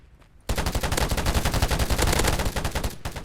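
Rapid automatic gunfire from a shooting video game rattles loud and close in a dense, continuous burst, starting abruptly after a brief quiet moment and running nearly three seconds before tapering off.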